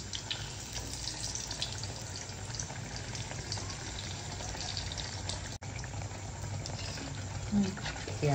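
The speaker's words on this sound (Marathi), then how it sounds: "ह्याला खालून वरून तळून घ्यायचा।" Malpua, a Marathwada-style sweet, frying in hot oil: a steady, dense bubbling sizzle that holds throughout at moderate level, with a brief dropout midway.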